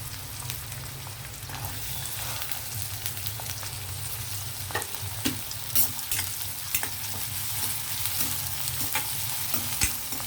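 Sliced onions fry in hot oil in a pan, a close, steady sizzle with scattered sharper pops and crackles throughout, with no one talking.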